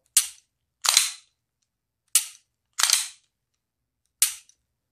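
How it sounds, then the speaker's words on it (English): Guns fire at a live fire range, five sharp, loud reports spaced irregularly over a few seconds, with silence between shots and no talking. "You've got the sound of the other people's guns going off."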